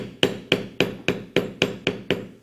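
Eight evenly spaced sharp strikes of a mallet on a metal leather beveling tool, each a crisp knock with a short ringing tail, walking along a cut in leather, close and alone with no talk.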